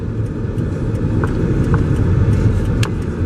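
Steady low rumble of a car driving, heard from inside the vehicle as a constant road and engine drone with faint light ticks, no talking.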